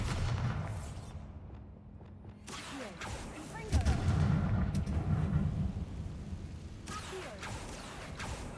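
A Bombarda blasting spell goes off in Hogwarts Legacy, a deep rumbling explosion in a stone catacomb that swells into a loud low boom midway and then rolls off with debris and echo, under some game voice.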